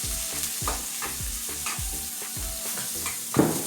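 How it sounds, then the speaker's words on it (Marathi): Onion frying in hot oil with cumin seeds, a constant close sizzle with regular rhythmic stirring scrapes about every half second, no voices. "कांदा चांगला लालसर भाजून घेऊया।"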